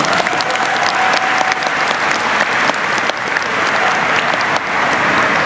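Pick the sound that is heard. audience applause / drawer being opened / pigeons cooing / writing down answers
audience applause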